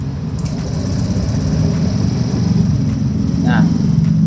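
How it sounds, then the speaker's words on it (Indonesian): A motorcycle engine idles steadily after starting, a low continuous rumble that stays close and fairly loud throughout, with a brief higher chirp near the end. "sekarang motor sudah hidup."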